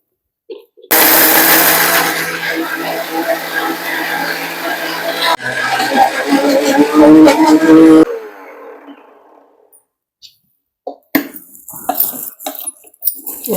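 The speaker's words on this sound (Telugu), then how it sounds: "ఇలా పొలిపు పొడి అయ్యేటట్టు మిక్సీ పట్టుకోవాలి" A mixer grinder pulses roasted gongura leaves with garlic and salt into a coarse pickle paste, roaring loudly in two long bursts with a brief break between them. Afterward there are quiet clicks and a cough.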